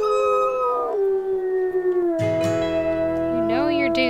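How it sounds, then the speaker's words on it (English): A wolf in the WolfQuest video game lets out a long, loud, sustained howl that holds steady and then bends in pitch near the end, with game music and ambience beneath it. "Howl to let the lucky pack know where we are"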